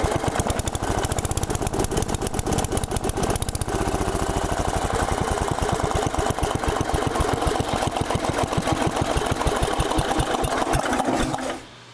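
A Briggs & Stratton 10 hp engine on an old Allis-Chalmers Big Ten garden tractor runs steadily at high RPM for the full stretch, a loud, even, rapid mechanical chatter that cuts off abruptly at the very end.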